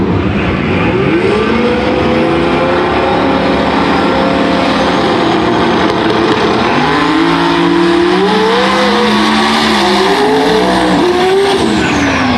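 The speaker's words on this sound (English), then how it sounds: "We'll see what the Supra of Avender can do here. He's on the left-hand side of the racetrack." A Toyota Supra drag race car roars loudly down the racetrack at a no-prep outlaw drag racing event, its engine revving and climbing in pitch, with tire squeal and track noise throughout.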